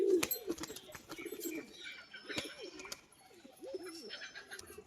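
Pigeons coo repeatedly nearby in low, throaty bursts, with scattered clicks and rustles mixed in. Quieter cooing continues in the background and no one speaks.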